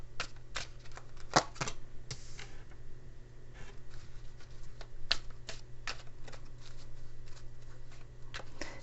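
Tarot cards being shuffled, giving sharp papery snaps and riffles at irregular intervals over a steady low hum, fairly quiet and with no talking.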